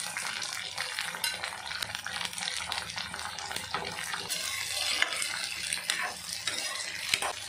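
Chopped tomatoes and dried red chillies for a tomato chutney cook in a pan, giving a steady, moderately quiet sizzle with bursts of watery hiss and stirring.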